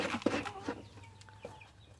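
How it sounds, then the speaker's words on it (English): Big hens eating their breakfast feed give a few soft, close clucks and short calls, spread irregularly over quiet farmyard background. "our big hens are enjoying their breakfast"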